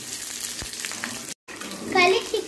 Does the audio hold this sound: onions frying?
yes